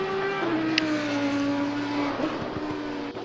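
A race car driving during a motorsport race, a steady high engine drone with a falling pitch and brief tyre squeal, close and continuous.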